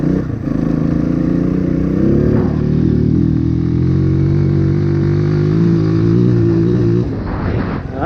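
A Honda CRF230 dirt bike engine with its snorkel removed runs loud and close, holding a steady high-revving note for several seconds before the throttle drops off near the end.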